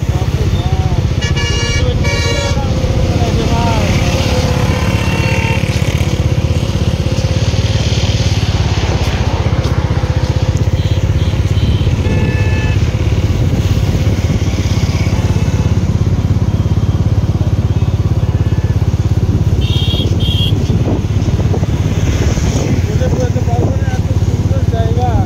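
A motorcycle on a road trip toward Prayagraj during the Kumbh rumbles steadily and close, with horns tooting in busy traffic and a rider talking over the engine noise.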